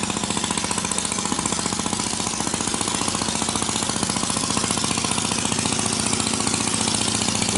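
A car engine fitted to a Vietnamese long-tail boat runs steadily and loudly up close, with a rapid, even, rattling beat and no voices.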